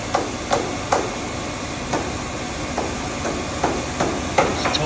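Sharp metallic taps on a manual machine tool, struck to release it from a large drill spindle, about eight spaced knocks over a steady hissing machine-shop background, close and fairly loud.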